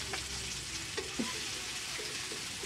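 Garlic and onion frying in a pan for vegetable spring rolls, a steady, quiet sizzle with a few light stirring clicks.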